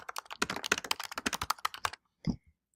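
Rapid typing on a computer keyboard close up, a quick irregular run of crisp key clicks for about two seconds, then a brief pause and a couple of final taps.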